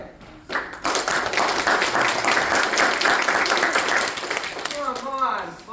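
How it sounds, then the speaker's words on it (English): A theatre audience at a stage play matinee bursts into loud, sustained applause and cheering for several seconds, then it dies down as someone starts speaking. "whenever you see the applause sign up, I want you to give it everything you've got"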